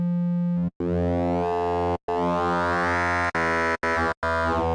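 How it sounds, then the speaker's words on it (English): An FM synthesis tone from a UADx PolyMAX software synth with triangle-wave oscillators, heard as a bright, harmonically rich sustained tone, steady at first and then sweeping and shifting through several held notes separated by brief cuts, with no voices. "So that's the sound of FM synthesis."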